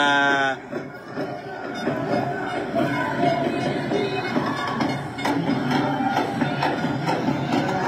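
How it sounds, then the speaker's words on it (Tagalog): A large crowd at an Alyansa political rally in Mandaluyong makes a dense, continuous roar of many voices and cheers that fills the whole stretch. "yan ang crowd mga kababayan"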